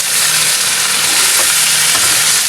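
Garlic, onion and ginger sizzle loudly in a hot pan, a dense steady frying hiss with faint scraping of stirring underneath, close and continuous with no talk.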